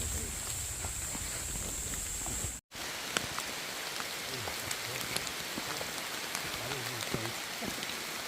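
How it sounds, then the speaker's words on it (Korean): Heavy rain pours steadily on a mountain trail during a descent from mushroom foraging, a dense continuous hiss of drops hitting surfaces throughout, with faint voices underneath. "비가 너무 많이 와."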